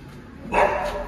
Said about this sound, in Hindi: ये वाला जो कुत्ता है ना, ये पीछे नहीं छोड़ता दोस्त